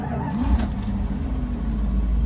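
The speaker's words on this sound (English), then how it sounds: "I give it one pump of gas, put some fuel in the carburetor, and give it a start." A 1972 Dodge camper van's carbureted engine turns over and settles into a loud, steady idle, heard close up with a low rumbling drone throughout.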